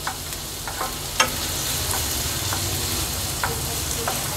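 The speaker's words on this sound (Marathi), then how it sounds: "कांदा छान लो फ्लेमवर आपण शिजवून घेतला आहे" Onion cooks in oil in a pan over a low flame, giving a soft, steady sizzle with occasional light clicks of stirring, quiet and continuous with no voices.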